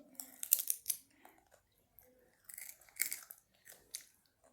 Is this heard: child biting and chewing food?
yes